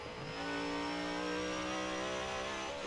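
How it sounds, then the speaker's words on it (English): A Zenvo TSR-S in Forza Horizon 4 holds top speed with a high, sustained engine whine and a steady drone underneath, constant and close with no gear changes. "And listen to that whine."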